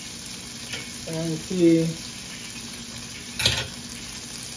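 Mackerel mixture sautés in a pan with a constant frying hiss, broken by a brief voice and a sharp scrape or clatter of the spatula against the pan.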